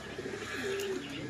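Racing pigeons coo softly as they return to the loft, a low burbling coo against steady outdoor background noise.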